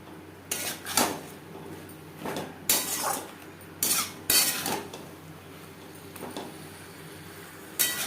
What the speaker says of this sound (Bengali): মশলার সাথে বেগুন বেশ ভালো করে মিক্সড করে দেবো